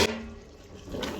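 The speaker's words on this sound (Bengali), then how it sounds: "এখন পানিটা দিয়ে দিব" Water pours briefly and faintly into a cooking pot of rohu fish curry with ash gourd, a short soft splash and trickle in a home kitchen.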